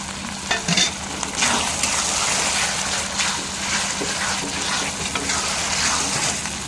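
Green peas frying in a pan with ground onion paste and spices, a steady loud sizzle broken by repeated scraping stirs throughout.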